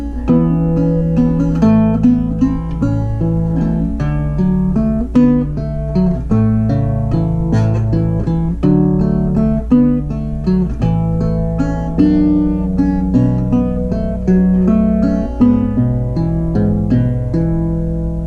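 Fingerstyle guitar plays the opening section of a waltz, a lilting waltz melody over a bass line, close and clear with no talking.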